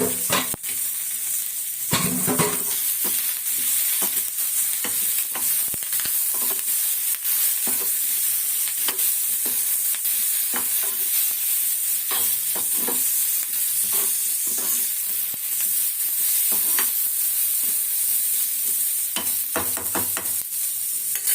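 Pepper, cumin, garlic, curry leaves, tomato and onion sauté in a pan for a mango fish curry, with a steady close sizzle and frequent scraping stirs of the spoon, no voices.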